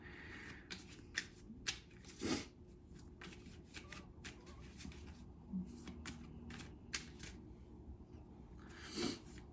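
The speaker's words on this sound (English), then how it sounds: "I'm just going to shuffle the oracle cards" Oracle cards being shuffled in repeated quick riffles and soft slaps, close by, with a low background hum throughout.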